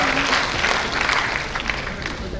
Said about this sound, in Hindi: तालियों के साथ उत्साहवर्धन करते रहिए हमारे अधिकारियों का